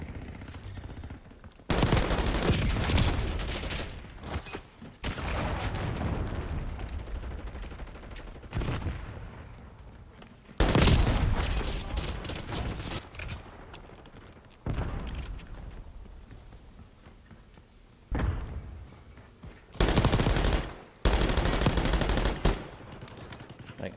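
Grekhova pistols firing in Call of Duty Black Ops 6, loud rapid bursts of gunfire coming close together in several separate volleys with short gaps between them.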